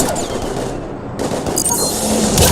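Bursts of automatic gunfire in the Mass Effect 3 video game during a fight against husks, a dense, continuous rattle of shots with sharper cracks near the end.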